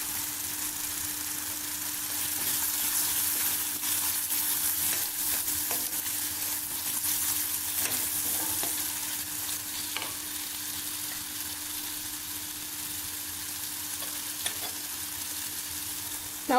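Green chilies and spices frying and stirred in a pan for a paneer capsicum dish, a steady close sizzle with occasional scraping stirs throughout, no talking.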